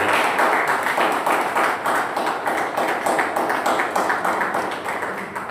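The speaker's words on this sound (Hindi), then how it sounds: "जब आप ताली बजाते हो तो एक दूसरे को देखते हो" An audience at a talk on drug-addiction recovery applauds in a steady, dense wash of clapping that fills the room, loud and continuous without any voices.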